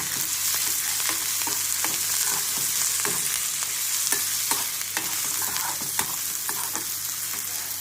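Raw peanuts roast in hot oil in a pan for lemon rice, giving a loud, steady sizzle broken by scraping stirs, close up and free of talk.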